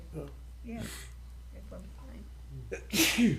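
A single loud sneeze bursts out in a county commission meeting room near the end, following a few seconds of quiet conversational speech.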